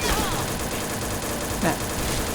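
Rapid continuous bursts of SIG-Sauer MCX gunfire in the shooter game Point Blank, loud and dense throughout, with a voice talking over the shots.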